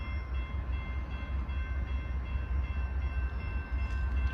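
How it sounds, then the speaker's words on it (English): A Norfolk Southern freight train approaches on wet rails in the rain, a loud steady low rumble with sustained tonal ringing layered over it, heard alone without voices. "Train's coming from right behind me on track 1."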